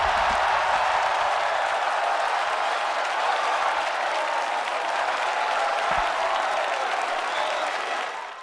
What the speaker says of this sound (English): The moment he ends the set, listen to the crowd.